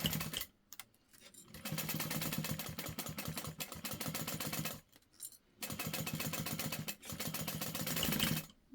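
A sewing machine runs in long, fast stitching bursts along the three outer sides of a fabric piece, stopping briefly between runs, close and steady.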